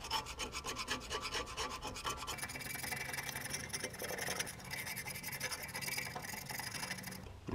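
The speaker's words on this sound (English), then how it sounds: "I'm just going to use my knife here to try and scrape this gasket off" A knife scrapes old gasket material off the housing of a Farmall 460 tractor, a steady, close rasping that runs without pause and thickens slightly toward the end.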